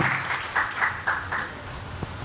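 Audience applause at a Maheshwari Mahasabha executive committee meeting in a hall, a steady wash of clapping with a few louder swells, fairly near and on its own.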